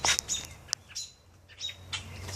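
A baby bird chirps in thin, high, repeated peeps while a snake tries to swallow it. The calls come in irregular bursts over a low outdoor rumble and sound moderately close.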